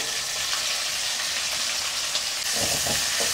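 Shallots, dried red chillies and curry leaves frying in hot oil give a steady, dense sizzle that swells into a louder, bubbling crackle near the end, with no voices.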